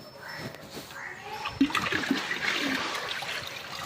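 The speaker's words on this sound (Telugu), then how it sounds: "కలిపి బెల్లం నీళ్ళుగా తయారు చేసుకోవాలి." Jaggery being stirred into a 200-litre drum of water, heard as close sloshing and churning splashes that swell midway and keep up a steady watery rush to the end.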